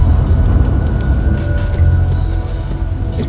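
A rainstorm in Los Angeles pours down loud and close, a dense, steady roar of rain on surfaces with a deep rumbling undertone throughout.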